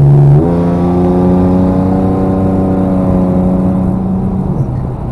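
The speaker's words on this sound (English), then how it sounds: "I'm pretty happy with how it sounds. So I guess I'll give it one last little stab here for you guys." A 2003 Ford Sport Trac with a custom full exhaust revs up sharply from idle, holding a loud, steady drone for several seconds before dropping back to a low idle rumble, close by and with no talking.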